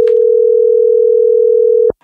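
A telephone dial tone plays while a call is placed again, a single steady loud tone held for nearly two seconds and then cut off abruptly, with no voices.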